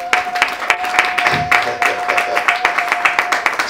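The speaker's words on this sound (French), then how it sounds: "Si on peut d'ailleurs l'applaudir aussi" Applause for a musician at a maxi-single presentation: a brief round of clapping from a small audience, uneven and fairly close, with a steady tone and some voices beneath.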